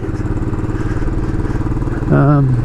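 A Royal Enfield Classic 500 motorcycle rumbles steadily while ridden along a Melbourne boulevard. The engine thrums continuously and close, and a voice rises over it near the end.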